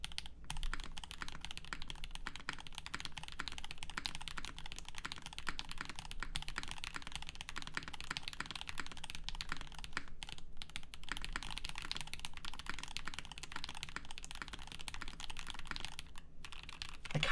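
Rapid, continuous typing on an NK87 mechanical keyboard with silicone dampening, soft, muted key clicks in a quick, uneven rhythm, close up and with no one talking.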